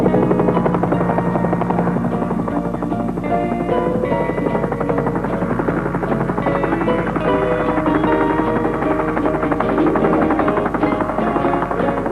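A helicopter over the mountains at the Freeport gold mine in Indonesia drones steadily and loudly throughout, its rotor chop and engine whine continuous with no pauses.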